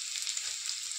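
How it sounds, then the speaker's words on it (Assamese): Onion sizzles steadily in hot oil in a wok, a dense, close hiss of frying with no pauses and no voices. "পিঁয়াজটো ভাজি লওঁ"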